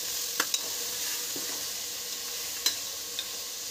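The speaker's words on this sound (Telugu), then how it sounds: "మంచిగా ఇలా కలుపుకొని నూనెలో 2 నిమిషాల పాటు మగ్గించండి." Goat legs cook in hot oil for a curry, a constant soft hiss of sizzling with a few sharp clicks of stirring scattered through it and no one talking.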